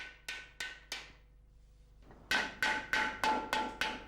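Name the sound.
coppersmith flattening a copper pot with a wooden mallet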